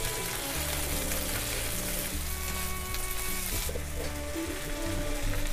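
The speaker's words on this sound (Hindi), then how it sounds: "अब इनको अच्छे से मिक्स करके चला देते हैं।" Frozen peas and a finely chopped tomato fry in a pan for vermicelli upma, giving a loud, steady sizzle with the scrape and shuffle of stirring throughout, close up and without talk.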